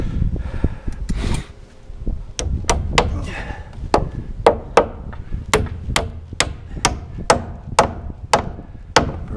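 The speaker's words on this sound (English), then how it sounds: "Let's tack a nail in this guy." Sharp hammer blows drive a nail into wooden roof framing on a house build, about a dozen evenly spaced ringing strikes after some initial handling knocks, close and loud with no talk.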